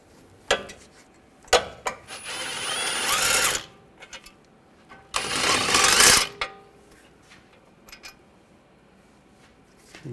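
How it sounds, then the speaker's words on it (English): Ratchet with an 18mm socket loosening the caliper bracket bolts on a 2007-2013 BMW 328i front brake, heard as two sustained bursts of rapid clicking with a few sharp metallic knocks between them. "Use an 18mm socket. Take these two caliper bracket bolts out."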